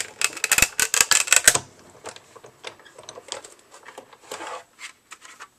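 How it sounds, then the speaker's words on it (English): A manual die-cutting machine is cranked with a butterfly Thinlits die sandwiched between clear acrylic cutting plates, making a fast burst of close, loud clacking ticks followed by a quieter, irregular run of clicks as the plates roll through. "I'm going to cover the whole thing with another clear acrylic cutting plate, and I'm going to roll it through"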